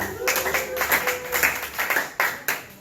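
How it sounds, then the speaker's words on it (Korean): A church high school group's Sunday service audience gives a round of applause, a short, uneven burst of sharp individual claps from a small room with a few voices nearby. "우리 열심히 권고해주신 총무님께 다시 한번 박수"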